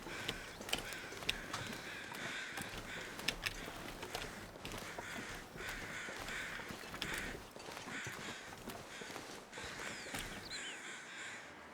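Crows caw repeatedly in the survival game The Long Dark, scattered harsh calls over a faint windy outdoor ambience with occasional crunching footstep-like sounds.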